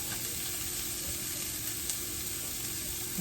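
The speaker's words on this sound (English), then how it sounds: "So we're just gonna let that cook a little bit more." Southwest taco eggroll filling left to cook in a pan, a constant close sizzle and crackle with faint hiss throughout, steady and unbroken, with no voices.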